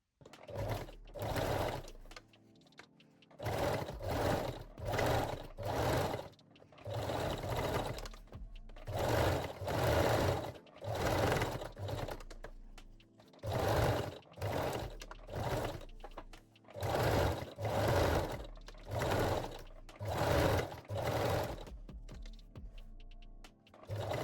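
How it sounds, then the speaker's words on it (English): Sewing machine running zigzag stitch along the bottom edge of a lace bralette, in repeated loud bursts of rapid mechanical whirring separated by short pauses, with no talking. "now we can sew the bottom edge again with the zigzag stitch"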